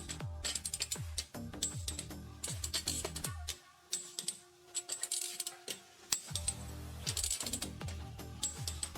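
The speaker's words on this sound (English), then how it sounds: "Standard torque, tighten wheel lug nuts." Lug nuts on a 2.5-litre Toyota Camry with 125,000 km are tightened with quick metallic ratcheting clicks and clanks, close and fairly quiet, with a short lull partway through.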